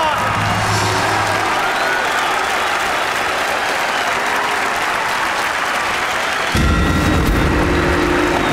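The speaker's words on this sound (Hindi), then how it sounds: "तालियां।" Audience applause at a court competition, a dense steady wash of many hands clapping throughout, with a deeper rumbling layer joining near the end.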